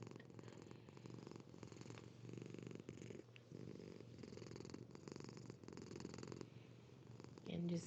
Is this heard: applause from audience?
no